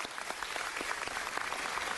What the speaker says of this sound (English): So could we please give them a round of applause?